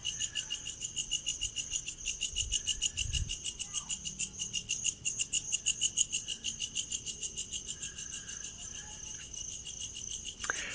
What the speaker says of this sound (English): crickets, grasshoppers, that sort of thing